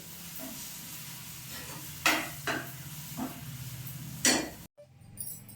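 Sesame seeds crackle in hot oil for a tempering, a low steady sizzle broken by several short sharp bursts of popping, fairly quiet and close, ending abruptly.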